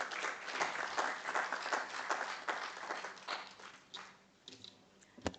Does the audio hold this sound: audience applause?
yes